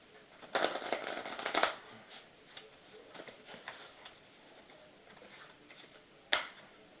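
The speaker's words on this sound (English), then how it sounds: "I'll give them one more shuffle." A deck of playing cards riffles in one loud, close burst of fluttering shuffle, then softer scattered taps and flicks of the cards being handled, with a final sharp snap.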